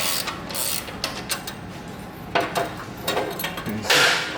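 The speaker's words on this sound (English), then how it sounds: "you have to take out the bolt completely because we want to disconnect the bracket from the bike" A ratchet wrench backs a bolt out of an exhaust bracket on a 2017+ Harley-Davidson Touring Milwaukee-Eight, giving a series of quick close metallic clicks in uneven bursts with small clanks between.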